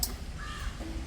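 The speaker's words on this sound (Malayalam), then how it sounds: "കാക്ക" A crow gives a single short caw at mid-distance over a low, steady background rumble, with no voices.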